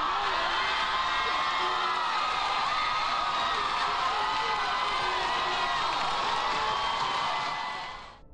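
A television talk-show studio audience erupts in loud, sustained shouting, whooping and cheering, a dense crowd roar that holds steady for about eight seconds before fading at the end.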